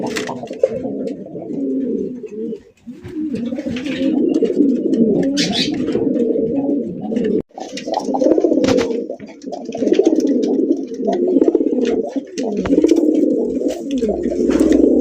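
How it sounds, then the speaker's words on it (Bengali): Desi Bombay pigeons at a pigeon farm coo steadily and close, a continuous low murmur of overlapping calls that barely pauses, with faint clatter and brief higher noises mixed in. "যারা কবুতরের ডাক পছন্দ করেন"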